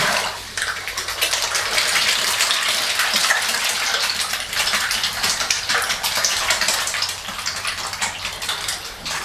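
Water gushes steadily as a 4-inch bottom drain on a garden pond is purged, a loud, continuous rushing splash heard close and alone for several seconds.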